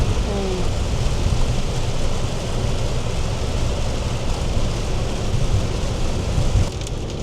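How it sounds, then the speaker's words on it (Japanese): Heavy rain drums steadily on a moving camper van during a drive toward Beppu in Oita, a dense, loud, continuous wash that drops off sharply near the end. "だいぶ雨がね強くて大変ですね。 なかなかな雨だね。"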